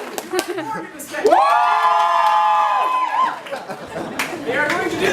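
A lively improv show crowd cheers for a performer to stay, with sustained high yells and whoops over lighter clapping, trailing off into chatter and a final renewed shout.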